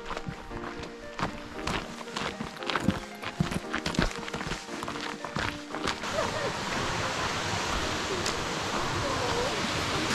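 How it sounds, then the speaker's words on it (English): A forest waterfall on a bush hike, heard as a steady broad rush of flowing water that swells to fill the second half, after footsteps and rustling movement along the trail; a voice is heard briefly. "I can hear the water."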